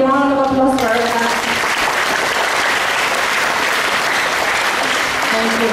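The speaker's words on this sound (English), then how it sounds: "Shall we give a big round of applause for our class?" A loud crowd applauds at a high school graduation ball, breaking out after a brief tone and keeping up a dense, sustained roar of clapping with a musical tone faintly underneath.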